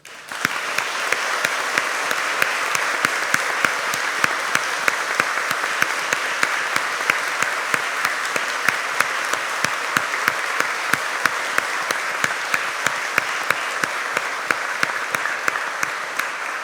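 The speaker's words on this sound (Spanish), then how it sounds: "Aplaudamos este logro." A large audience of new lawyers and their guests gives sustained, dense applause at a swearing-in ceremony before the Supreme Court, a steady crackling wash of many hands lasting the whole stretch without a break or any talking.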